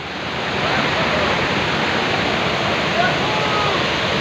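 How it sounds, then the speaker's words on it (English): A waterfall roars in a steady, loud, close wash of rushing water that holds level throughout, with no distinct voices breaking through. "What a waterfall, man!"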